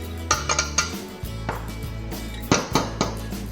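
A flour-dusted cake tin tapped against a surface to knock out the excess flour, a series of sharp metallic knocks and clinks in uneven bursts, close and fairly loud.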